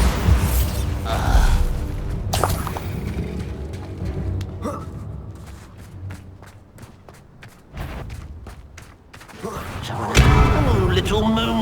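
Blasting-spell explosions in the Hogwarts Legacy video game, with booming thuds and impacts scattered through a busy battle, a voice shouting over the action.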